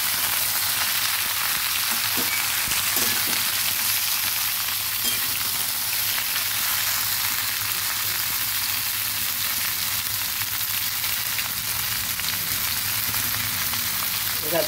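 Ridge gourd and potatoes fry in a pan with a loud, continuous hissing sizzle, close up, with occasional soft scrapes as the vegetables are stirred.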